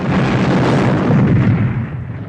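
Cannon artillery fires during a Waterloo battle scene in a 1970 war film, one loud rumbling blast that fades over about two seconds.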